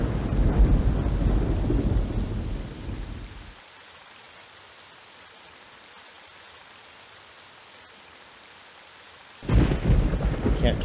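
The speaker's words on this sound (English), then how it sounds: "Can't turn off the water, the rain sound." Rain and thunder ambience from the EverQuest video game, with a loud rumbling roar of rain that drops to a faint steady hiss, then surges back abruptly.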